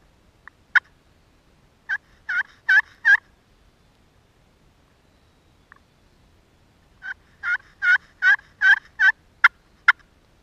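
A wild turkey gobbles in two bursts, the first a single call followed by a short rattling series, then after a pause a longer run of rapid, clear gobbles, fairly close in an otherwise quiet spring woods.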